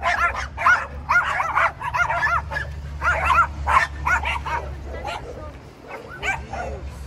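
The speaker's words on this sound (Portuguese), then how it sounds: "Cachorro." A dog in a video game yips and barks in quick repeated bursts over a low steady hum, close and fairly loud, trailing into fainter whimpers.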